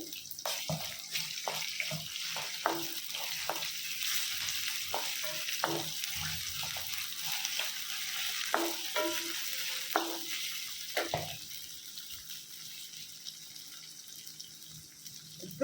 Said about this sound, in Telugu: ఇప్పుడు ఇందులోకి అల్లం వెల్లుల్లి పేస్ట్ వేసుకున్నాను